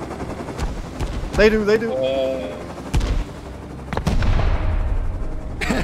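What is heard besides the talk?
satchel explosions and gunfire in the video game Rust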